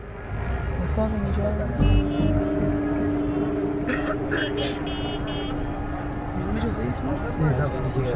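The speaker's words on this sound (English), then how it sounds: "The car then gets stuck in Kabul's notorious rush hour traffic" A car sits in Kabul rush hour traffic amid a steady rumble of engines, with a long horn toot and further honks and traffic noise, and people talking over it.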